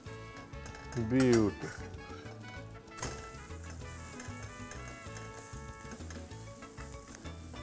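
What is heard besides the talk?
tortilla roti frying in butter on a pan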